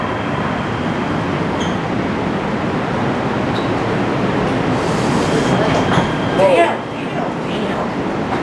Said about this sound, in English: Now arriving, Little Tokyo Arts District Station on First between Alameda and Central